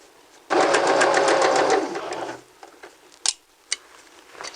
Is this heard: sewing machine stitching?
yes